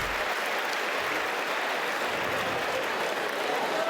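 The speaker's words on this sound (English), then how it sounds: "And get some assistance and a round of applause from the Corvallis crowd." A crowd in the arena at an Oregon State basketball game against LMU in Corvallis applauds in a steady, dense wash of clapping that carries on without pause, heard from a distance.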